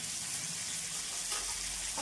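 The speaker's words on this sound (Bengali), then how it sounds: "এগুলো 2 মিনিট ভেজে নিই।" Raw green mango pieces frying in a pan for a tangra fish sour curry, giving a steady, close broadband sizzle that holds evenly throughout with no talk.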